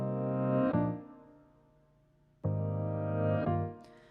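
A clean organ layered with moving fuzz and piano in a Logic Pro X song production plays two long sustained chords, each struck firmly and then fading slowly, with a brief gap of decay between them.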